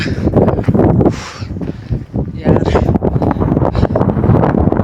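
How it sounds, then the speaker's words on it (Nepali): Cold wind on a mountain top roars across the microphone in heavy gusts with a brief lull midway, loud and close, and someone talks through part of it. "चिसो हावा चलिरहेछ"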